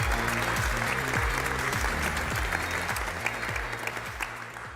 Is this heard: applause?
yes